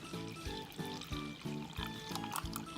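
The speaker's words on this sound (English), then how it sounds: "So now the next step is we're gonna pour in a bottle of water." Water poured from a bottle into clear glue slime gives a run of rhythmic glugging pours, close and steady, with no talking over it.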